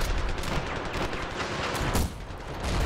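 Rapid, continuous gunfire rattles in the battle shooter Ravenfield, with dense overlapping shots throughout and a brief dip before it swells again; no voices are heard.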